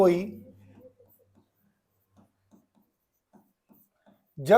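Chalk writing a definition on a classroom board comes through as a string of faint, sparse taps and scratches, with a man lecturing just before and after.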